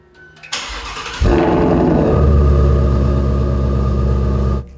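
A Ford Mustang GT350 fitted with an MBRP 3-inch stainless steel XP-Series exhaust and resonator delete, valves closed, cranks and fires up, then settles into a loud, deep, steady idle rumble close by.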